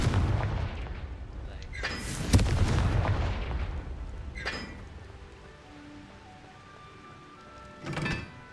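Confringo fire spell blasts in Hogwarts Legacy, with a big booming burst followed by further crackling explosive hits and a rumbling tail, the loudest near the start, with a few softer blasts later.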